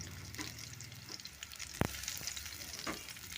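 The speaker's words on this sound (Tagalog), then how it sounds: "Start po natin ilagay yung sibuyas" Onions go into a pan outdoors for sautéed bitter gourd with scrambled eggs, a soft, continuous sizzle with stirring rustles and a single sharp knock from the utensil partway through, fairly quiet.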